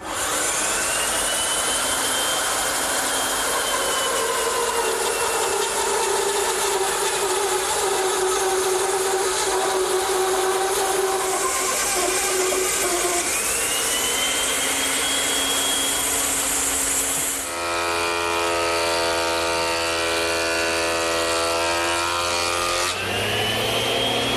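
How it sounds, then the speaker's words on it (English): A bandsaw fitted with a 1-inch blade re-saws a board against an auxiliary fence, a steady loud whine and cutting drone that shifts pitch as the cut progresses, then settles into a different motor tone near the end. "To re-saw it, I'm going to use the bandsaw."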